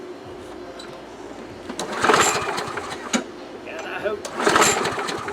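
A 2005 Murray lawn mower with a Quantum 6.5 engine is pull-started nearby in two cranking bursts that sputter without catching, while someone talks between the attempts.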